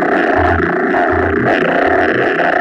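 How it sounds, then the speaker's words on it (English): A Frap Tools Fumana filter bank synthesizer with delay applied gives a thick, growling, distorted drone with pulsing low tones repeating throughout, loud and continuous with no talk. "A little bit of delay."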